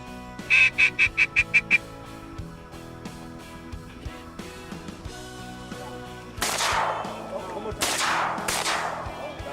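A duck-hunting outing in Louisiana: a quick run of duck calls comes first, then after a quiet stretch two loud, sharp shotgun blasts ring out close by a second or so apart.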